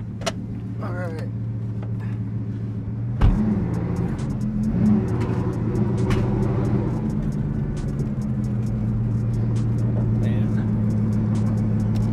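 A Bugatti Veyron with a titanium exhaust idles with a deep, steady rumble and a brief rev, under continuous talking.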